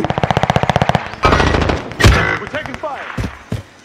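Machine gun fire in the Modern Warfare 2 video game: a rapid, evenly spaced burst of loud shots for about a second, followed by heavier thuds, a sharp blast and scattered game noises.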